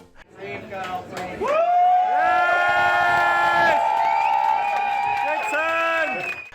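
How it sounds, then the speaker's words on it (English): Audience at a drag show contest in Newcastle erupts in loud sustained cries and cheers of encouragement, with whoops and shouted voices filling the room for several seconds before easing slightly. "Dixon's panic was met with cries and cheers of encouragement from the crowd"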